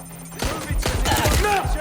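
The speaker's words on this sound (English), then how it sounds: "Shots fired, shots fired." Gunfire in the action game Watch Dogs: Legion breaks out after a brief quiet moment as a rapid burst of close, sharp shots that overlap into a chaotic firefight for the rest of the moment.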